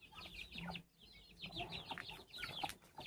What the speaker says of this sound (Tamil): இந்த கின்னி கோழி மட்டும் இன்னும் உள்ளே வரல.